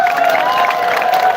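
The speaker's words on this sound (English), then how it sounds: "Clap for yourselves." Brief burst of clapping and cheering from a large crowd of parents at a live rally, dense and steady throughout with a sustained vocal tone riding over the applause.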